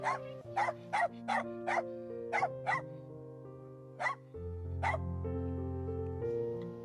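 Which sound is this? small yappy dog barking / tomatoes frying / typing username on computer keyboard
small yappy dog barking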